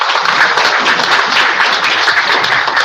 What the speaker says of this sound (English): I just want to give a round of applause and thank you to all of our wonderful partners here tonight.